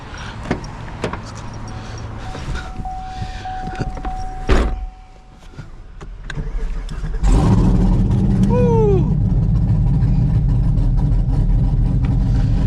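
Camaro ZL1 with supercharger and open exhaust, engine droning steadily and loudly, with a rising whine that sweeps upward partway through; a door or window noise and a brief quieter lull come before the engine swells.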